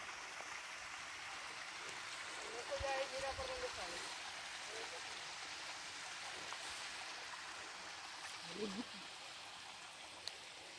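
Shallow mountain stream carrying little water, a steady soft rushing flow heard continuously on a family hike, with faint brief voices and small knocks now and then.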